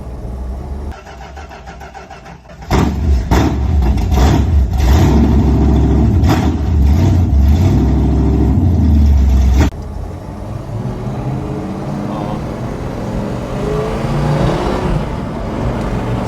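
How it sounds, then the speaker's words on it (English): A restored 1968 Plymouth Road Runner with a rebuilt Mopar Performance 426 HEMI and four-speed cranks and fires up loudly, settles into a deep, lumpy idle with revs, then carries on as a steady, rumbling drive. "we're driving Gary's 1968 Plymouth Road Runner. It's a 426 4-speed."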